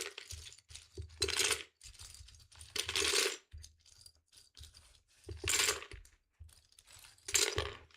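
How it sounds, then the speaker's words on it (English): Plastic keyboard keycaps drop into a jug in several bursts, each one a close cascade of light clattering and clinking, with quiet gaps between the pours. "I'm gonna put all the keycaps into this jug."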